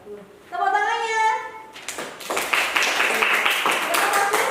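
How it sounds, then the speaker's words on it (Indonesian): Primary school students clap together in a classroom after a group presentation, a short burst of brisk, fairly close hand claps following a teacher's spoken prompt. "Tepuk tangannya."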